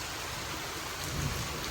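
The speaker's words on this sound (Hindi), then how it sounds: "सही ज़ोरदार बारिश होना शुरू हो गई है" Heavy rain pours down after a spell of hot weather, a faint, steady hiss of falling water with no talking.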